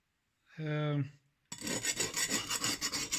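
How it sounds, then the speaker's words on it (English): A knife blade rubbed on a King whetstone, a steady rhythmic rasping of steel scraping back and forth across the stone, close and clear, following a brief separate tonal sound at the start. "first thing first, 90 degrees to about 70, and then just rub it on the stone."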